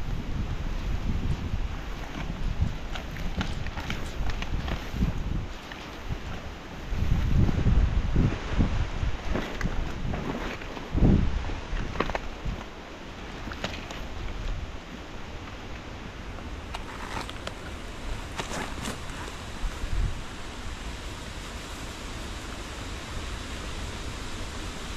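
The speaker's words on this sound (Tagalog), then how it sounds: "Lakas ng hangin oh." Strong wind gusts roar across an outdoor plot where banana trees are being planted, a loud continuous rush with heavier buffeting bursts and microphone rumble throughout, no talking.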